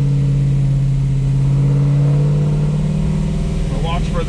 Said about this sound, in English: Gonna go ahead and make a pull here, rev it out a little bit further and see if it makes a little bit more power